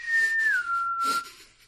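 A single clear human whistle holds a high note, then slides down to a lower steady tone, with breathy noise around it.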